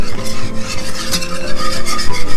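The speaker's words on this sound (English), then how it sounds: "I want to add just enough milk to where you could mix" Milk and flour stirred together in a crock pot set to brown for clam chowder, giving a steady, close scraping and rubbing of the spoon against the pot with no talking.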